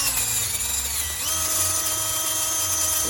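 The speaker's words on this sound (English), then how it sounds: "I got this wheel. It's like plastic. It's like a hard plastic, and this moves rust." A drill spins a hard plastic wheel against a differential bolt on a 2008 Chevy 2500HD, scrubbing off surface rust with a loud, high, steady whine that dips briefly in pitch under load.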